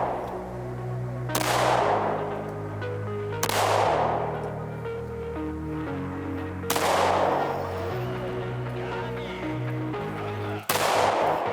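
Four loud handgun shots from a CZ SP-01 pistol, spaced two to three seconds apart, each a sharp crack followed by a ringing echo, as at an outdoor range.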